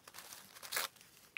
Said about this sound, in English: Just rip a bit off.